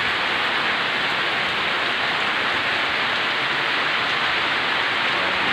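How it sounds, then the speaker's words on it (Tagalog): Heavy rain pours down without pause, a dense, loud, even roar of water with no voices. "Sobrang lakas ng ulan"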